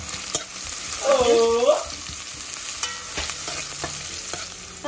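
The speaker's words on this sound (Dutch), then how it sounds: "We gaan eerst die Laos, uien en knoflook bakken, ja?" Galangal, onions and garlic fry in hot oil in a pan as the base for bami, a steady close sizzle with stirring scrapes and a brief squeaky utensil sound partway through.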